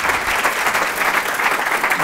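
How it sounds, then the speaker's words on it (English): An audience at a talk on rebuilding sustainable Indigenous communities claps in a dense, even round of applause, loud and continuous throughout. "Let's give him a round of applause."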